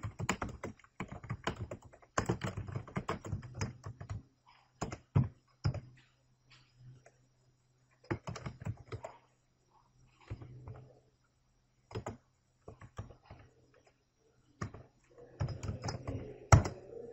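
Typing on a computer keyboard while a row is entered into an SQL table: bursts of rapid, close key clicks separated by short pauses, with no talking.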